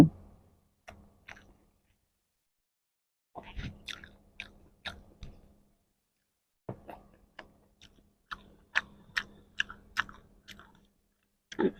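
Close-up eating of fried rice with paneer masala and egg: scattered bursts of wet chewing and soft crunching bites, with quiet pauses between clusters and a denser run of chews toward the end.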